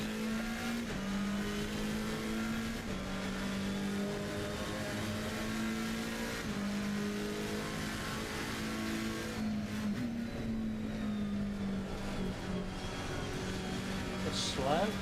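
Race cars in Assetto Corsa Competizione droning steadily through a packed race, with a sustained engine tone that shifts pitch at gear changes and a brief squeal near the end, mixed with a commentator's voice.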